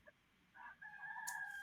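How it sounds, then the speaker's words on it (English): A rooster on a Polynesian island crows once, a drawn-out call that rises and holds, sounding somewhat distant against a quiet background. "Polynesian islands are full of these bloody roosters."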